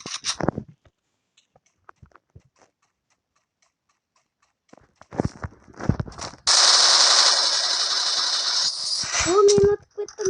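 Gunfire in the mobile shooter Free Fire, a sustained loud burst of rapid shots lasting several seconds after scattered quieter clicks and game sounds.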